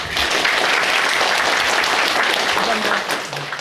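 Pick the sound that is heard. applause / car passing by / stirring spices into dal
applause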